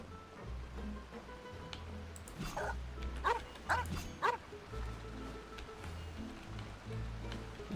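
A dog in the Genshin Impact video game gives several short, soft yips and barks in a cluster midway, set against steady game ambience and background music.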